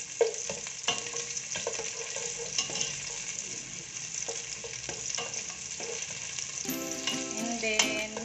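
Onions sauté in a pan over low heat for chicken afritada, giving a constant close sizzle broken by scraping stirs, with a few clinks near the end.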